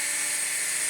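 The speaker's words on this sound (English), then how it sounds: "let this thing be the best filtering cordless stick vacuum cleaner" A Numatic Henry Quick NQ100 cordless stick vacuum cleaner runs with a steady, bright, high-pitched whir, close and constant for a short moment.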